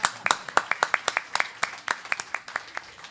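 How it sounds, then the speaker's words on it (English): Live applause from a crowd at a 90th birthday celebration, heard as sharp, closely spaced individual claps over a few seconds, near and fairly loud, with no talk over it. "Let's give yourselves a round of applause."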